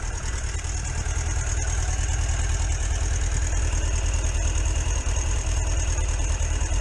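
A Suzuki Bandit 650 motorcycle engine with carburettor trouble idles while warming up on a cold day, giving a steady, loud, even low thrum with light ticking and no voices.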